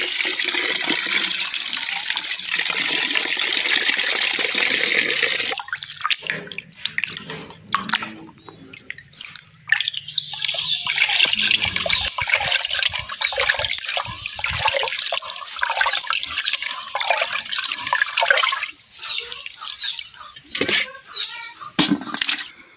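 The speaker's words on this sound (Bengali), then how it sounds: "তাই এবার চালটা ভালো মতো করে ধুয়ে নেব" About a kilo of rice is swished and rinsed by hand in water in a cooking pot, with steady trickling, dripping and sloshing that is loud and continuous, broken by brief quieter pauses.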